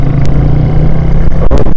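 A motorcycle is turned and ridden back toward the mosques of Tarim. A steady, loud engine hum runs close by the whole time, broken by a couple of sharp clicks near the end.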